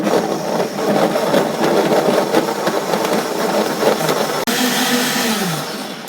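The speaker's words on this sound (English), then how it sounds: "I'll blend it up by that now." An electric blender whirs steadily at close range while blending a breakfast smoothie, a loud continuous motor drone that runs for several seconds, lifts in pitch near the end, then fades slightly.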